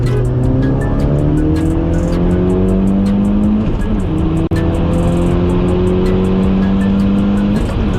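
A stage 2 Audi RS3 8P, around 340 bhp, accelerates hard in a loud, continuous engine roar that climbs through the gears, with a brief shift dip midway and no talk.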